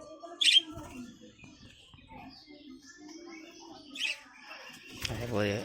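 Pet budgerigars give brief chirps and tweets at close range, separated by quiet gaps, with a voice talking in the background.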